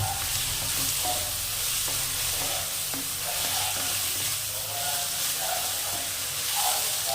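Leftover cooked rice and turmeric frying in a pan give a loud, continuous sizzle with soft stirring taps scattered through it. No one speaks.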